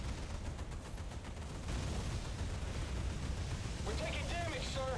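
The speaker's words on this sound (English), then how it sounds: "What is shooting at me?" Gunfire and explosive rumble batter a player's ship in a naval combat game, a dense continuous roar with crackling impacts, and a voice talks over the din near the end.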